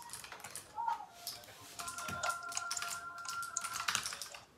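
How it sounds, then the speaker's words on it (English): Busy keyboard typing with sharp, rapid key clicks, moderately loud, alongside a faint tonal beep and muffled background noise. "my keyboard makes this loud noise"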